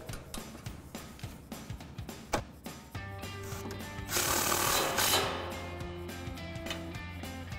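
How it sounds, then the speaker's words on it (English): Supplied 19mm nut tightened onto a sway bar link on a 2005-2014 Mustang during a coil-over install: a rapid ratcheting clatter of quick ticks, then a louder steady whirring impact-tool burst, close up with no talk. "we're gonna grab our supplied 19mm nut and tighten that down"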